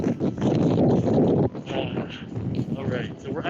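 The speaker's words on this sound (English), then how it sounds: "Oh, it's a bit windy." Wind gusting outdoors in a park during a cherry blossom walk, heavy buffeting rumble against the microphone, strongest at the start, with a person talking over it.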